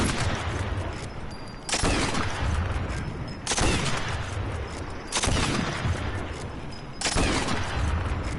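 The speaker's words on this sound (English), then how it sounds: "We have the Lee Enfield No. 4 British rifle, same name as the real one." A Lee Enfield No. 4 rifle in .303 British fires in the Sniper Elite 4 video game: four loud, heavy shots spaced evenly about two seconds apart, each with a long rumbling tail, and no voices.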